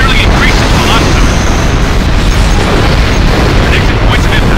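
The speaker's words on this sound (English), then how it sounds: "Railgun fire incoming! It's covering the sky." Railgun fire in the combat flight game Ace Combat Infinity, during a Stonehenge assault, rumbles as a loud, dense, continuous barrage of booming explosions, with a voice speaking over the roar.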